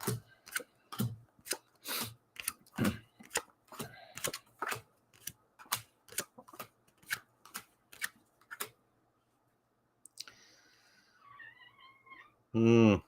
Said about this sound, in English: he's sleep meowing at the moment